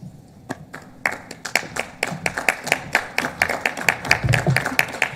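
Applause for a student government speaker at a West Virginia State University commencement: sparse claps that quickly build into steady, moderately loud clapping from a small group, with crisp individual hand claps audible.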